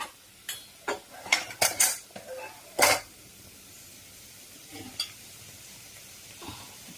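Onions and tomatoes go into a pan of mushroom masala with sharp metallic clinks and scrapes of a utensil against the pan, a cluster of quick knocks, then sparser taps over a faint sizzle.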